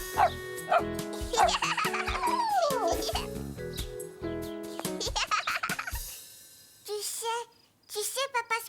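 A small dog yaps and whimpers in quick, high-pitched bursts in a French-dubbed Caillou cartoon, with cheerful background music and animated sounds running beneath.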